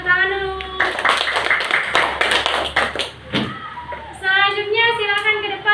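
Classroom students clap their hands in a short, busy burst of about three seconds, set between stretches of a teacher's speech before and after.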